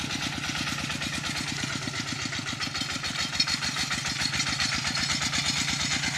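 A tractor pulling a harrow over a grass-seeded field in Nong Phok, Roi Et, runs with a fast, regular low chugging pulse, fairly close and steady, with no talking.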